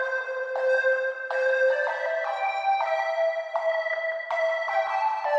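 Bright synth lead from a future bass track, playing a sustained, chord-like melodic line with stepped note changes at a steady, even level and no voices.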